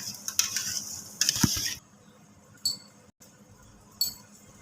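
Ginger garlic paste goes into a pan holding chicken, giving a few light clinks and scrapes of a utensil against the pan with a soft sizzle in between, close and fairly quiet, with no talk.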